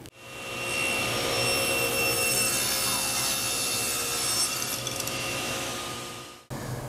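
A table saw fitted with a Whiteside 40-tooth general purpose blade cuts a piece of maple about 7/8 inch thick. It gives a loud, sustained whine with a rising cutting rasp for about six seconds before stopping abruptly.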